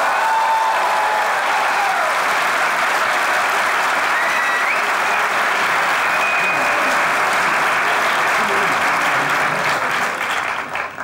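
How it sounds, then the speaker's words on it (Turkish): Loud, sustained applause from a crowd at a New Year's party in a boys' dormitory, dense steady clapping that fills the whole stretch and starts to fade right at the end. "Ben bu alkışı çok özlemiştim."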